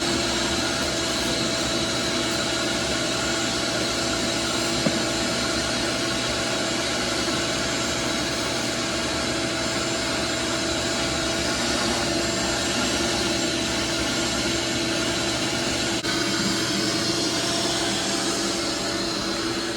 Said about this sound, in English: I hope you can hear me over the shop vac.